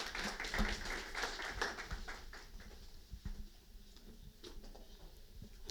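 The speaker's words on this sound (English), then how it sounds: "Let's give him another round of applause." Applause from a seated audience for a speaker at a corporate branding talk, a soft, distant patter of clapping that fades gradually over several seconds.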